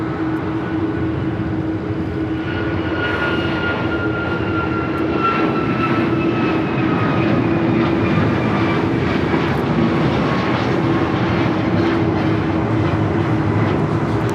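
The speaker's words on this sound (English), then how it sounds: "1621 taking off to Orlando on the MAX 9." A United Airlines Boeing 737 MAX 9 takes off at LAX, its engines roaring steadily and loudly throughout with a rising whine, close and continuous with no talk.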